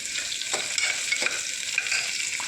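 Onion frying in oil in a pan while being stirred, a close steady sizzle with a few soft scraping strokes of the spoon, no voices.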